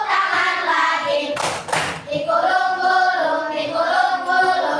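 A quick pair of hand claps bursts out midway through a children's action song, set against a steady sung voice that carries on before and after the claps.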